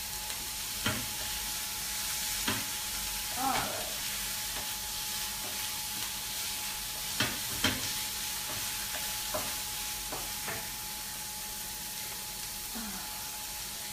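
Vegetable fritters fry in a pan with a steady, even sizzle, broken by occasional clicks and light stirring knocks. A faint voice sits low underneath.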